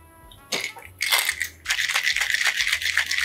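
Ice shaken in a cocktail shaker for a lime, passion fruit and agave drink, loud rhythmic rattling bursts of cubes that start after a pause and continue steadily.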